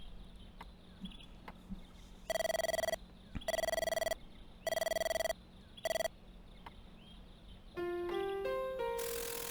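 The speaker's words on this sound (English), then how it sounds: "The late wake-up call was ringing." A wake-up call telephone rings in the video game Mirrors: four loud, evenly spaced electronic ring bursts, followed by a rising run of synthetic tones at the end.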